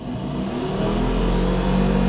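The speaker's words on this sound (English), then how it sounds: "you can tell when the heater's running." A retrofitted heater running inside a Standard Atlas pick-up with the ignition on, giving a steady, fairly loud blower drone with a low hum that holds constant and rises slightly as it goes.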